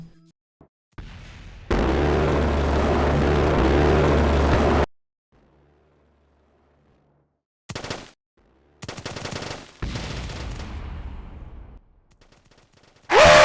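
A CIWS close-in weapon system firing in the game Kerbal Space Program, a long sustained burst of rapid automatic fire, then silence, then several shorter bursts and rumbling blasts, loud and without voices.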